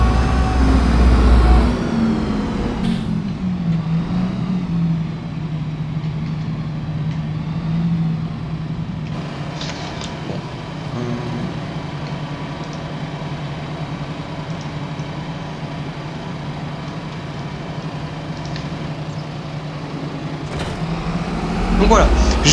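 Steady engine drone of a farm vehicle driving fast in Farming Simulator 25, a continuous loud hum that swells slightly near the end, with talking over it throughout.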